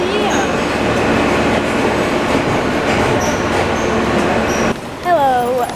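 A New York City subway train moving again after a stop, its loud steady rumble and clatter filling the car, then a drop in noise followed by rising wheel squeals near the end.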